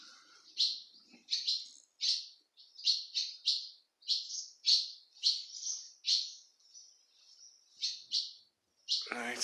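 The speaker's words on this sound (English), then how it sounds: "there's a lot of birds still flying about around there" Birds inside an abandoned building give a string of sharp, high chirps, about a dozen spaced calls ringing fairly close in an otherwise quiet space, with a brief noise at the very end.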